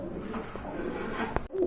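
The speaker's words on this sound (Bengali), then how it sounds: "খুব সুন্দর এক জোড়া কোয়ালিটি সম্পন্ন বোম্বাই কবুতর দেখতে পাচ্ছেন" A pair of Bombay pigeons coo softly and close by, with a few low throaty calls over faint background noise.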